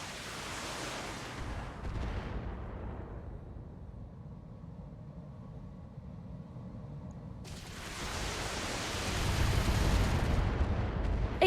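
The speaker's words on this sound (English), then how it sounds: "The turrets are shooting at me?" Turret fire in the BattleTech mech combat game, a dense continuous roar of heavy shooting and rumbling blasts, loud at the start, dropping to a low hum in the middle, then returning strongly toward the end.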